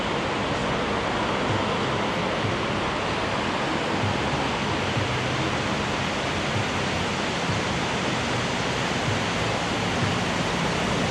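Water from the Mirage volcano fountains and pumps on the Las Vegas Strip, a steady, loud broadband rush that holds unbroken throughout, with no voices.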